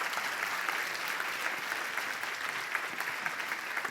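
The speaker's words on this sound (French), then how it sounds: "Je vous propose d'applaudir chaleureusement Hélène." Steady, warm applause from an audience closing a talk on responsible product design, a dense even patter of many hands clapping at moderate distance for about four seconds, with no voices over it.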